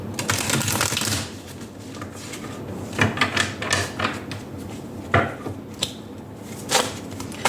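A Tarot of the Golden Wheel card deck being shuffled by hand: a dense riffling burst at first, then a series of softer taps and shuffles as the cards are handled, close by with no voice.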